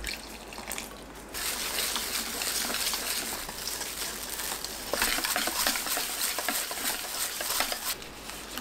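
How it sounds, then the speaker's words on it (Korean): A batter of wheat flour, frying mix, salt, two eggs and water being whisked in a bowl, a steady wet slapping and churning that runs close and continuous with a brief pause near the start. "밀가루 100g, 튀김가루 100g, 꽃소금 반 스푼, 계란 2개, 물 150ml 넣고 반죽을 만듭니다."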